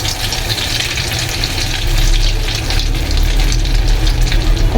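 An egg fries in hot oil in a karai after being flipped, a loud, close, continuous sizzle that grows a little stronger partway through, with nobody speaking.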